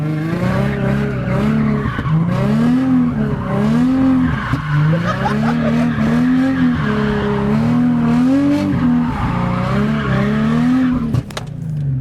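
A drift car slides through continuous skids, its engine droning loudly throughout with tire squeal mixed in, steady and close for the whole stretch.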